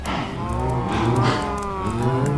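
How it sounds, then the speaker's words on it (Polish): Cows mooing on a cow farm in Minecraft, with several drawn-out low bovine calls overlapping steadily and fairly loud, with no talk. "i farma krów."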